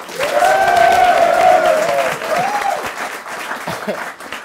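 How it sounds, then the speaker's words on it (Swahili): An audience at a comedy show claps steadily for a few seconds, with a voice sounding over the applause before it tapers off. "Wapi makofi yao?"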